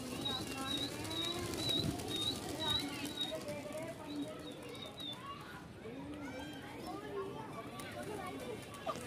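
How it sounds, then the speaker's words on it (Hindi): A flock of pigeons just released outdoors, wings fluttering and birds calling over a busy background, with people talking excitedly throughout. "कबूतर खुल चुके हैं भाई कबूतर।"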